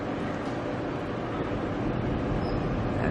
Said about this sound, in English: The locomotives are coming back here, they're going around the train and come back to hook on.